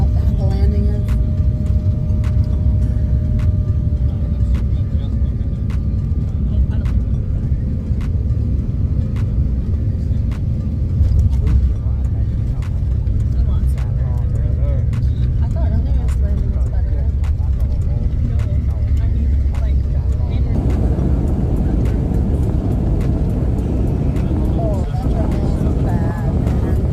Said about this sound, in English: I wanted to capture our landing. See how bad the landing is?